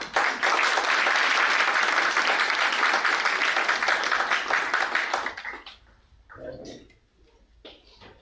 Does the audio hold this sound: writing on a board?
no